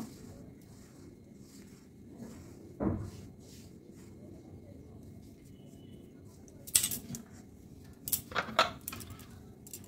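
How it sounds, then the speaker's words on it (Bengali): A spoon mixes yogurt into flour batter for jilapi. The room stays quiet at first, then scattered metallic clinks and scrapes come near the end. "এবার দইটাকেও ভালোভাবে মিশিয়ে নেব"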